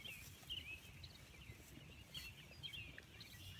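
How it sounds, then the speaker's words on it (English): Birds singing outdoors on a sheep farm in the morning: faint, scattered high chirps at a distance, a few distinct calls standing out over a quiet, low ambient rumble. "You hear it? You hear those birds singing?"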